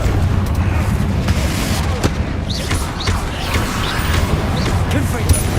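Confringo fire spells burst in Hogwarts Legacy over a dense, roaring wash of battle noise, with a few sharp blasts punching through the continuous rumble.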